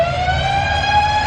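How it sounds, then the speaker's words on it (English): A loud siren sound effect used by a wedding DJ, a steady, sustained electronic wail with a bright harmonic tone that holds without pause. "That's that siren"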